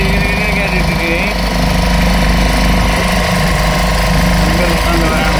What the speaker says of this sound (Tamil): போட் சவுண்டு தான் கேட்கும்னு நினைக்கிறேன்